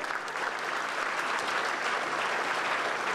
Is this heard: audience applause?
yes